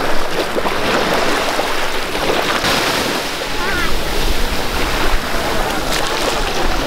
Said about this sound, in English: the ocean is speaking far on a far greater volume than you are